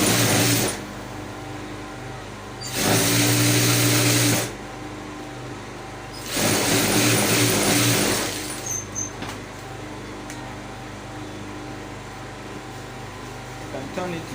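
A sewing machine stitches the seam of a corset cup in three steady, whirring runs of about two seconds each. Short pauses fall between the runs, and some faint handling noise follows the last one.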